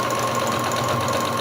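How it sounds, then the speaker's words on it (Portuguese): A sewing machine stitches a fabric doll, giving a steady, continuous mechanical whir with an even hum and no pauses. "Posiciono aqui na máquina. Começo a costurar"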